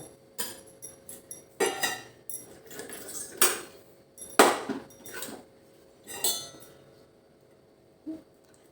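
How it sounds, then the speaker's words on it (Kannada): Clinks and knocks of a pot and vessel as melted jaggery is strained from one into another, several separate metallic clatters spaced apart over a quiet kitchen background. "ಇವಾಗ ಇದನ್ನು ಒಂದು ಬೇರೆ ಪಾತ್ರೆಗೆ ಚೆನ್ನಾಗಿ ಸೋಸ್ಕೊಂಡ್ಬಿಡೋಣ"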